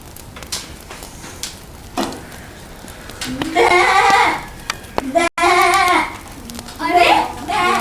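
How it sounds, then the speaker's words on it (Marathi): A spotted sheep bleats in several wavering, drawn-out calls, loud and near, between stretches of people talking. "हा तर आपल्या ठिपक्या मेंढ्याचा आवाज आहे"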